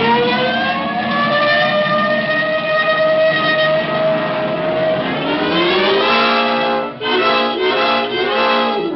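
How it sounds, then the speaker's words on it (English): A loud police car siren wails with a long rising and falling tone, then pulses in quicker bursts, close and sustained. "This time you can use the siren."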